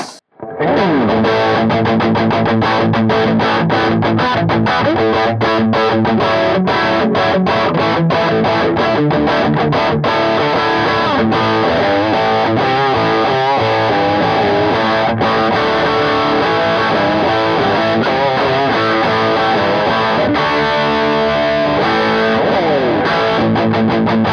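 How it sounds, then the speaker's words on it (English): Electric guitar through an 80-watt EL34 amp on the overdrive channel with the boost engaged, a continuous loud, compressed, saturated riff with rapid picked notes and chords for about twenty seconds. "and let's put the boost on, it sounds like this"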